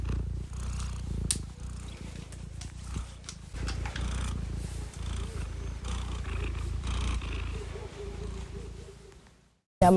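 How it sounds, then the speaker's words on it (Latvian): A young cat, seven or eight months old, purrs steadily and close up, a continuous low rumbling throb that lasts several seconds with no talking over it. "Jā, man ir kaķis Dūmiņš"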